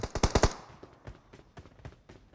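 A quick burst of rapid automatic gunfire from the video game PUBG Mobile cracks out up close, followed by a scattering of softer, more distant single shots over the next couple of seconds.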